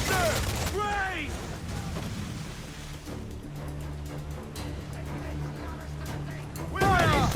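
Ship cannons firing in the pirate game Assassin's Creed IV: Black Flag, heavy booming blasts at the start and end over creaking ship mechanisms, with voices shouting across the deck.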